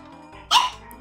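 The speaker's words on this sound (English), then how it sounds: "Oh, dogs are starting to bark." A dog in a home gives one sharp, fairly close bark over a quiet tonal background.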